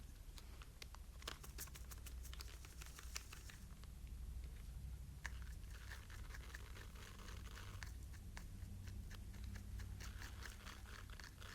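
Uncooked rice is tipped from a funnel back into its bag, a soft, dense patter of tumbling grains with brief rattling bursts, close up and quiet, with no voices.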